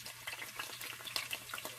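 Onions dropped into hot oil for Cameroonian-style jollof rice, giving a brief, close, crackling sizzle with no talking.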